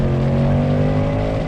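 A 2024 Ford Mustang GT accelerates hard during a 0-60 mph launch test, its engine note loud, close and steady with strong low rumble throughout.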